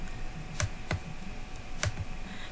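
Typing on a computer keyboard while entering running heads in a document template: a few sparse, sharp key clicks spaced irregularly over faint room noise, with no talking.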